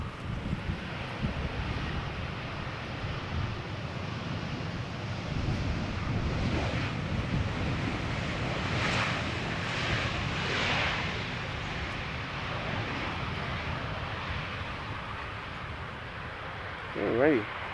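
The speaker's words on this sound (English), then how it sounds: "So for us it will look like a regular Embraer 190, E2 Embraer 195 I should say." An Embraer 195 E2 jet flies past at Schiphol Airport, a broad, rising and fading engine roar over wind buffeting the microphone, fairly distant.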